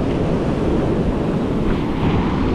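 Steady roar of ocean surf washing in continuously, loud and close, with a gusty wind rumble over the microphone throughout.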